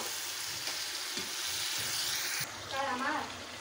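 Mixed vegetables sizzling in a pan as they are stirred, a steady bright frying hiss with soft scraping, a voice briefly heard near the end.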